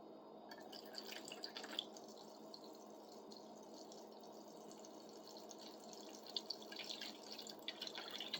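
Vinegar poured into a bucket to cover a rusty pruning saw, a quiet steady trickle and splash of liquid with scattered drips, close and faint.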